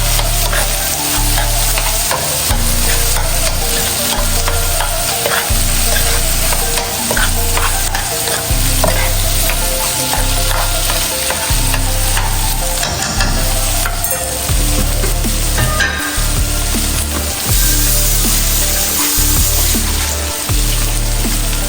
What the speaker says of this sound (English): Go ahead and mash it out into the pot. And also stir it up, mix it up.